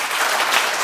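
A crowd at a Liberty Korea Party members' meeting breaks into brief, dense applause.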